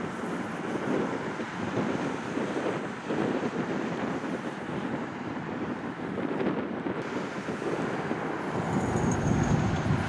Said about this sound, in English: Wind's starting to pick up now a little as the Bowman's MAN goes past.